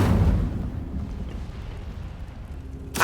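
The Incendio fire spell bursts in the video game Hogwarts Legacy: a loud fiery whoosh opens, then a rumbling roar fades under quieter game ambience, with another sharp burst at the very end.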